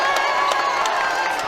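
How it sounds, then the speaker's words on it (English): A high school boys' basketball crowd in a gym roars steadily as cheers swell, a dense wash of shouting and clapping that carries on without a break. "And this crowd starts erupting again."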